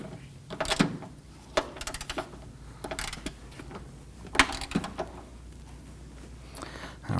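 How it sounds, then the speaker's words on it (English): Ratchet snugging down the strut bolts on a 2015-2024 Nissan Murano, heard as scattered close metallic clicks and knocks with short pauses between bursts, no talking. "Then I'm going to put my ratchet in there. We'll snug that down gently."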